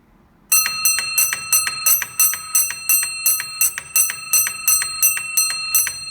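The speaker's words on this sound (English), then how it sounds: "I'll just round off with 16 bells to test the block instrument." An old railway signal box block instrument rings a test of 16 bells: sharp, bright metallic dings struck in a quick, evenly spaced series after a brief quiet start, loud and close with nothing else heard.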